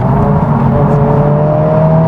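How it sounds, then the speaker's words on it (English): The engine of a 2023 Honda Civic Type R FL5 on the road hums loudly and steadily, a close, sustained droning whir with a faint climbing tone as it pulls. "let's see engine rev as well"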